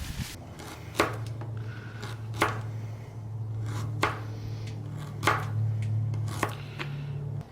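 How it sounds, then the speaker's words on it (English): A knife chops raw carrot into chunks on a board at a camp cooking setup, giving about eight sharp, evenly spaced thuds at close range over a steady low hum. "Carrot, let's chunk up some carrot."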